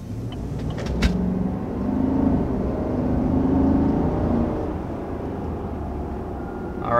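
A 2021 Chevy Silverado Custom Trail Boss with the 6.2-liter V8 pulls through a gentle acceleration, a steady low engine drone heard from inside the cab with a sharp click near the start and no talking.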